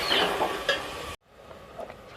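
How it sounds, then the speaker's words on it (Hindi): A spoon stirring onions as they fry in a pan, a close, loud sizzle with scraping strokes that cuts off abruptly into quieter faint sizzling. "और आस्ता आस्ता चम्मच के साथ हिलाएंगे ताकि हमारे प्याज हल्के से ब्राउन हो जाए"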